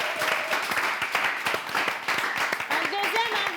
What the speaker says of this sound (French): On invite sous vos applaudissements